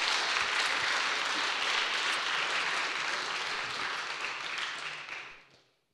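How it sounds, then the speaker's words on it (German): An audience in a hall at a youth hackathon final presentation in Dresden applauds with a dense, steady roar of clapping that holds for about five seconds, then fades out. "nochmal einen großen Applaus für das Team School"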